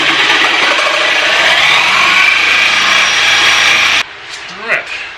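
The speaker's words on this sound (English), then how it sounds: "Got the old electric butter knife. Start off nice and slow." A loud, steady electric knife buzzes as it cuts into a Harley-Davidson Ultra Classic exhaust part for about four seconds, then stops, leaving faint handling noise and a brief voice.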